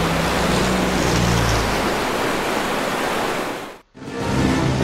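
River water rushes loudly after a dam breaks in the Planes video game, a broad steady roar like surf that briefly cuts out near the end before returning.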